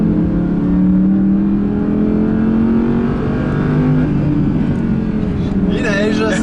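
A 2019 Audi R8 Performance V10 climbs a narrow, snowy mountain road. Its engine note rises and falls loud and close as the car accelerates, with a rough burst of noise at the end.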